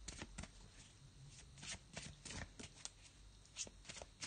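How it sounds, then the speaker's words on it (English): Tarot cards are shuffled and flicked at close range, giving rapid soft papery riffles and slaps, with one card drawn and laid down on a table. "So I'm gonna pop down a card for us for today."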